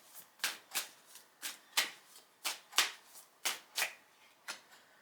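A tarot deck being shuffled close up, a run of sharp papery riffles and slaps repeating roughly twice a second, with no voices.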